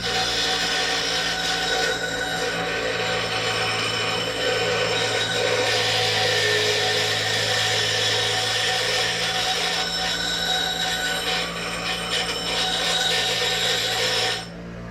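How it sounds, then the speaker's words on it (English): A bench grinder rounds off the end of a steel clutch rod, giving a steady, loud grinding whine with harsh broadband rasp that runs continuously for nearly fifteen seconds before cutting off near the end. "I'll take it over to the grinder and round that off."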